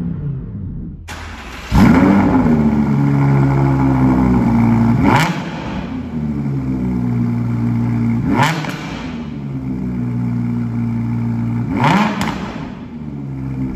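An Audi R8 with an APR exhaust kit fires up, then is revved hard three times, each sharp roar settling back into a loud, throaty idle.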